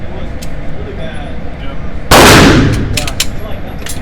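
A CZ P-10C pistol fires at an outdoor shooting range: one loud, sharp nearby shot with a ringing tail, plus fainter distant shots from other shooters, amid quiet ambient range noise.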